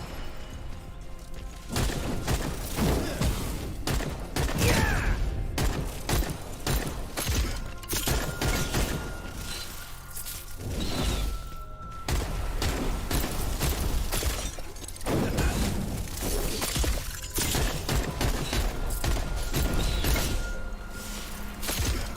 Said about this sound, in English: More just bombs everywhere.